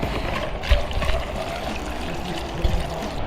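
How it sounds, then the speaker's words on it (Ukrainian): Petrol poured from a container into the fuel tank of a KOVI Advance 300, a steady close liquid trickle with a couple of brief low thumps. "Відкриваємо і заливаємо бензин."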